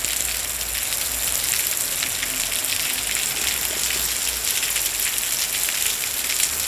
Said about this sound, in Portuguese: Chuvazinha boa.